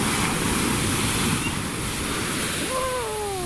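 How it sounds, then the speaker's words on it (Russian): Steady roar of storm surf on the Mediterranean shore at Belek, with strong waves washing in continuously, wind noise over the microphone, and a faint rising whistle-like tone near the end. "все стоят и ждут следующую сильную волну, чтобы их накрыло"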